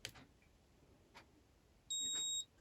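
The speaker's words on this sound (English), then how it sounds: "You heard the beep, that means it's on." An Outin espresso maker gives a single short electronic power-on beep that rings out clearly for about half a second, preceded by faint clicks and quiet background noise.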